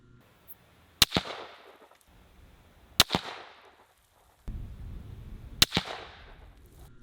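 Three sharp, loud rifle shots from a Christensen Arms 7 PRC ring out about two seconds apart, each trailing off in a short echoing decay, with quiet background between and some low rumble after the second shot.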